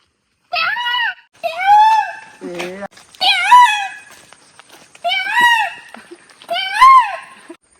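A person loudly imitates a peacock's call, a series of high, wailing cries with short pauses between them.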